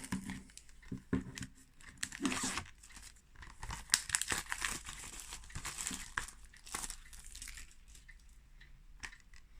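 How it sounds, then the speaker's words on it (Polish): A knife cuts and plastic wrap is peeled off a Blu-ray case, giving close, quiet crinkling, tearing and scratchy rustles that continue steadily throughout with no talking. "Odcinamy folię."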